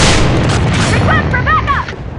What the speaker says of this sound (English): Fire in the hole! Grenade straight ahead.